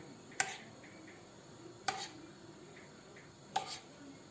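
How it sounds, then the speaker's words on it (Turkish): Batter-coated cauliflower frying in hot oil gives three quiet, sharp crackling pops spaced evenly over a faint background sizzle. "yağı size doğru çekip şu çıtırtıyı ben duymanızı istiyorum"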